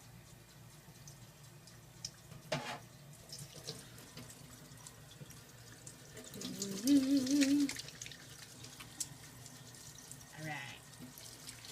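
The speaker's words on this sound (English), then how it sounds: "I'm gonna wash my hands before I do this." Hands washed under a running kitchen tap, water splashing and pattering fairly quietly with louder gushes midway, while a voice briefly speaks.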